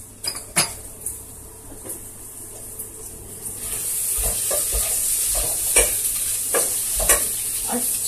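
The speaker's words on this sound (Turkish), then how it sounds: "Biraz yavaş karıştırmam lazım." Red pepper flakes are stirred slowly in a cooking pot with a spoon while a bright sizzle builds steadily, with scattered scrapes and clinks against the pot and no talk.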